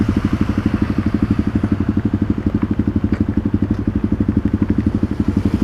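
A motorcycle engine starts in the rain in Balikpapan, Indonesia, then idles in a steady, even putter close by, with faint crackles and light clatter scattered over the top.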